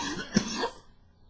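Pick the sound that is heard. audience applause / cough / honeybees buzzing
cough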